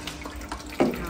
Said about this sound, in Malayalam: വെള്ളച്ചാട്ടം പുറത്തേക്ക് വെള്ളം വന്നു